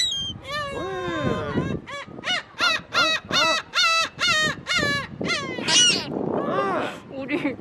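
Gulls calling by the sea at Oido, a run of loud, harsh, evenly spaced squawking cries close by, with overlapping calls and a few voices mixed in.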